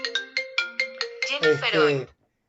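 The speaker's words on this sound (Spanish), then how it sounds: "déjenme apagar este teléfono y discúlpenme que no lo había hecho" A mobile phone ringtone plays close by during an online seminar, with a run of quick repeated tones followed by a longer warbling phrase, then it cuts off into silence.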